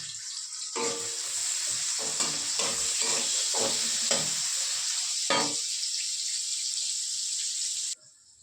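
Onion, chili and tomato hitting hot oil in a home kitchen pan give a steady, close sizzle lasting about seven seconds, with a few scraping stirs and soft clatters breaking through before it cuts off abruptly.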